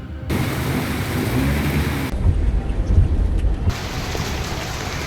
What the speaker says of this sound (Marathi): पावसाचा जोर